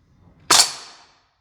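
A VFC AK105 gas blowback airsoft rifle fires a 0.3 gram BB in one loud, sharp crack right up close, followed by a brief hissing decay.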